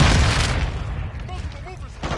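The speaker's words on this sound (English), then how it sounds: "Flash grenade! Throwing Zeptex!" A flash grenade bursts in a multiplayer shooter game, a loud booming blast at the start that decays into a fading rumble, with a voice calling out over it.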